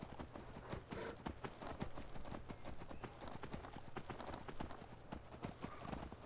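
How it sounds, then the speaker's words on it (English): Horse hooves clip-clop in a steady galloping rhythm while riding across open countryside in the video game Skyrim, close and continuous throughout with no talking. "we're just riding across the countryside"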